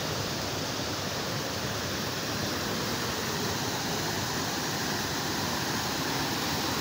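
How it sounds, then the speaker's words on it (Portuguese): Steady, broadband roar of a waterfall in Ceará, Brazil, heard close and loud, a dense unbroken rush of falling water with no voices. "Eu acho que essa daqui é a cachoeira mais bonita que eu achei."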